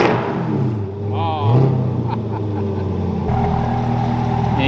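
A C8 Corvette fitted with an MBRP catback exhaust revs up sharply once, then settles into a deep, steady rumble up close, with a brief exclamation from a person.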